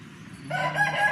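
A rooster crows nearby, a loud rising call that starts midway after a short stretch of quiet background.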